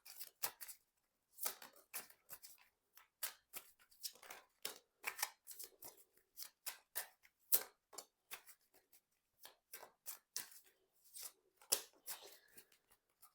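Cards being drawn and flicked from a tarot deck, a quick run of crisp papery snaps and slides in uneven bursts, close and fairly quiet, with no talking.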